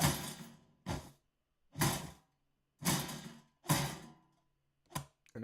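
Six layered whooshes for a gladiator battle sweep past one after another, each a loud, broad rush that swells and quickly fades, spaced about a second apart with silence between, no voices.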